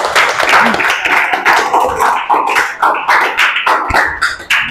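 Students in a classroom clap their hands together in a quick, fairly loud burst of many overlapping claps, rhythmic in places, with voices mixed in.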